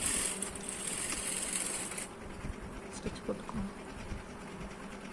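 A sewing machine stitches a round-neck blouse in a soft, continuous whirring run, faint and steady, with a few light clicks of the fabric being handled toward the end.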